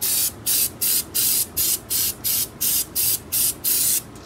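A homemade spray gun built from a PET bottle sprays paint onto aluminum in rapid, evenly spaced hissing bursts, about nine short close blasts separated by brief pauses.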